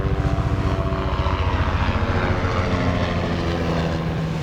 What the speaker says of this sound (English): I'm laughing because there was a helicopter, but as you probably heard.